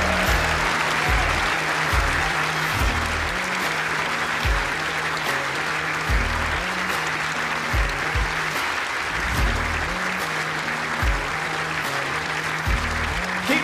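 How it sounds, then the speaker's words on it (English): Audience applause for the 2024 Ladies Match Play World Champion at the World Indoor Bowls Championship, sustained steady clapping from a crowd in a hall, with a low pulsing tone beneath it. "Keep that applause going, ladies and gents."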